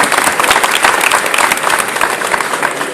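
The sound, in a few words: audience applause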